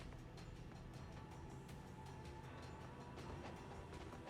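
Train rolling along rails in the Ninja Gaiden Sigma 2 video game, a steady dense rumble with faint rhythmic clatter running continuously throughout, no voices.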